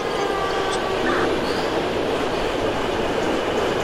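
Subway train arriving at a station in the openBVE metro simulator, a steady loud rumble of wheels and motors filling the whole clip, with a faint voice under it.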